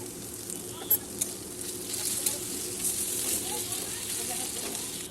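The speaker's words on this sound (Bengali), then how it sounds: "এরপর আদা বাটা এবং রসুন বাটা দিয়ে ভালো করে কষাবো।" Onion with ginger and garlic paste frying in a pan for a chana paneer curry, a soft, continuous hissing sizzle with a few light taps from stirring, fairly quiet and steady.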